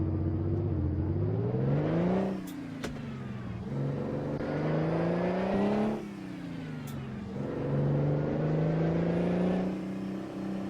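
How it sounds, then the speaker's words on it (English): Mack truck engine revving loud and close, the pitch climbing and falling across several throttle pulls, with steady engine drone between the revs. "An engine like this, it should have like noise restrictions on what time you can come through town."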